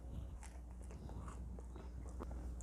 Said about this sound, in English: It has a crunch just like an Oreo cookie too.